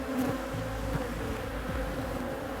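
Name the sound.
honey bees buzzing around a hive comb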